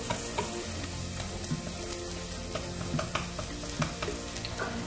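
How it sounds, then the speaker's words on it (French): Shallots, lemongrass and curry paste sizzle in a saucepan, a continuous crackling fry broken by occasional clicks and scrapes of stirring. "je vais chauffer ces éléments pour que les arômes s'exhalent."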